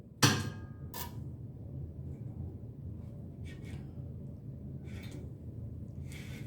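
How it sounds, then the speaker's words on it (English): A Charpy V-notch impact tester's pendulum hammer is released, giving one sharp, loud crack followed by a faint low rumble and a few soft, distant knocks in a quiet room. "to release the hammer, you would pull on this latch"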